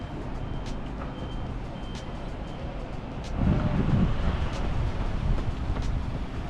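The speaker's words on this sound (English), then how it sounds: "Car noises are coming from the audio." A steady low rumble of far-off road traffic with wind noise by the Thames between Greenwich and Woolwich in London, swelling slightly midway as a heavier vehicle passes in the distance.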